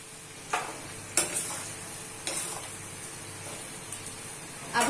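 Okra cooks on a low flame in a pan for dhaba-style bhindi do pyaza, a quiet steady sizzle broken by several distinct scraping stirs, near and fairly soft.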